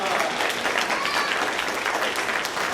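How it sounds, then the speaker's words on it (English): Steady audience applause at a young composers' night fills the room, dense and continuous clapping from a crowd, fairly close and loud throughout with no pause. "Big round of applause for Annika Sharma."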